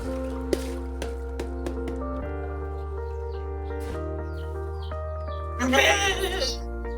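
Water poured over paddy rice seeds to soak them after rinsing off salt water, with a short splashing rush near the end over a steady tonal background and voices.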